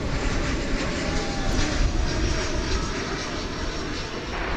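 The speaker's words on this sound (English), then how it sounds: "We've got a American Airlines Airbus A319 coming in from Jackson, Mississippi" An American Airlines Airbus A319 arriving at DFW Airport makes a loud, steady jet roar that holds throughout at close range.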